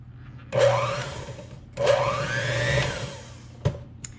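An electric mixer pulses to work 1 3/4 cups of all-purpose flour into cream cheese cookie dough. Two steady motor bursts of about a second each are separated by a short pause, followed by a faint click.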